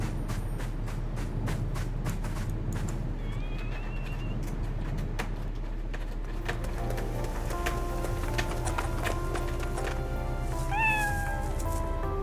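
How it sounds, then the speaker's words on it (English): Kittens in the video game ArcheAge mew repeatedly in short, high calls over a steady game soundscape with light background tones. "Play with some kittens for a little while."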